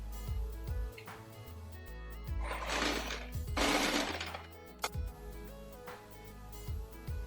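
A sewing machine runs in short bursts, stitching lining material to the main fabric of a floral print long gown, with a low rhythmic motor hum, ticking needle strokes and a couple of louder whirring runs in between.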